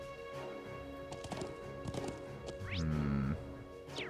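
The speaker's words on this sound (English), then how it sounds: "I think it's funny that we can ride our horse." Horse hooves clip-clop while riding in the Trails of Cold Steel game, a run of light irregular footfalls under game music, followed near the end by a brief horse whinny.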